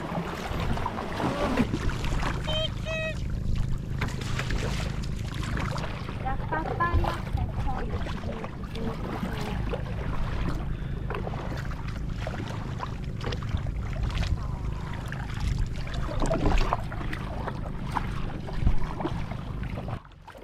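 A kayak is paddled through choppy sea waves off El Nido, with rushing water and splashing wind noise filling the whole stretch; a voice is heard faintly at times.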